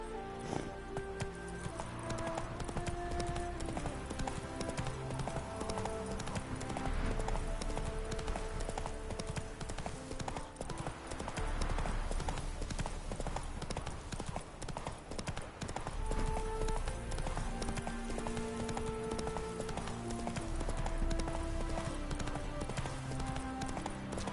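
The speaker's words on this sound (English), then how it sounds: "Whoa there, Roach. Let's go!" Horse hooves clip-clop steadily in a video game, a rider's mount trotting along under a dense, continuous bed of game music that stays loud throughout.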